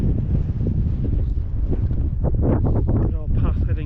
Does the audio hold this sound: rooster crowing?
no